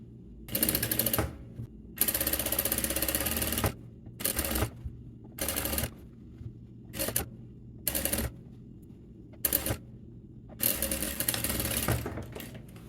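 A sewing machine stitches fabric onto a jeans pocket in loud, repeated bursts of rapid mechanical clatter, each run stopping and starting again with short pauses between.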